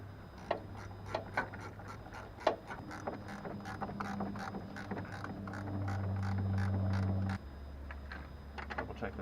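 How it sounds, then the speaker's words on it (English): Ratchet wrench tightening hydraulic clutch bolts on a 1995 Jeep Wrangler, heard as steady rapid clicking from the pawl, close and clear, with a low hum building underneath before it drops away, and no speech. "Reverse your wrench."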